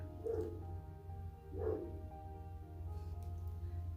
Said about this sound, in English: my dog, he's barking at something.